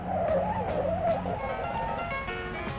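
A car on worn tyres skids through a corner on a test road, giving a sustained, loud tyre squeal with a wavering pitch over the engine, close by and with no voices.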